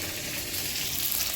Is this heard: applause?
no